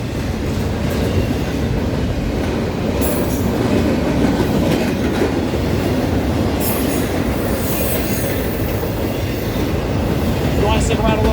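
Freight train led by a pair of Kansas City Southern locomotives rolling past at Colton, a loud steady roar of rumbling wagons with rhythmic wheel clatter and occasional high squeals, continuous throughout.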